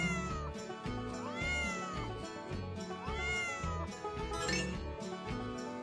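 Several cat meows, rising and falling, come one after another over cheerful background music, clear and near.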